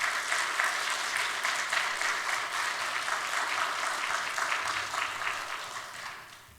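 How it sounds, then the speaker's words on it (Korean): A church congregation at a Korean Presbyterian church in Toronto gives a warm, sustained round of applause as a pastor is welcomed, many hands clapping loudly before slowly tapering off. "우리 목사님 앞으로 모실 때 큰 박수로 감사를 표해 주시기 바랍니다."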